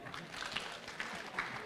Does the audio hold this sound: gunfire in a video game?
no